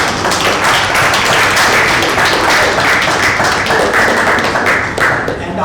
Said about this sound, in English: I think we should give a big round of applause for our faculty